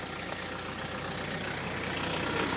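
A tractor engine runs at a low, steady idle nearby, a constant rumbling drone that swells slightly toward the end, with no voices.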